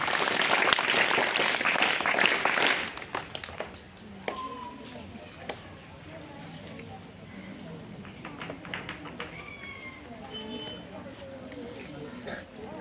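Primary schoolchildren at a Zilla Parishad school in Nashik burst into a few seconds of loud group clapping for a classmate, then the applause stops and voices talk over faint room noise and scattered taps.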